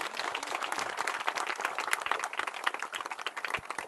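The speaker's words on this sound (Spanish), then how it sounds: "un fuerte aplauso para Julio" Crowd applause at an outdoor beatification Mass on a hillside, dense sustained clapping from many people for several seconds, fairly loud and unbroken.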